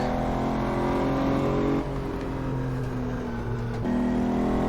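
The Lamborghini LM002 engine in Assetto Corsa drones steadily with a low, humming tone, then drops pitch twice in sudden gear-change steps before settling again, moderately loud and alone.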